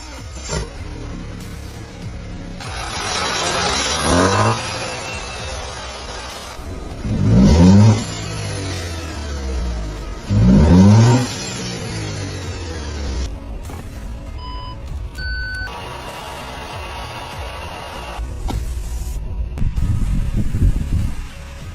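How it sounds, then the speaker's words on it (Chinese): A salvaged Audi Q5 being converted into a camper runs and shifts through its gears, with two loud surging engine revs rising in pitch over a steady idle, plus brief electronic beeps near the end. "挂下档试一下，看看这个变速箱有没有问题，看看这个车能不能开动"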